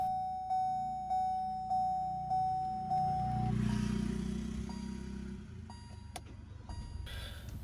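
A Kia petrol car with a gasoline particulate filter is switched off and restarted: regular clock-like chimes give way to a low engine rumble that settles into a steady idle, with a few clicks near the end.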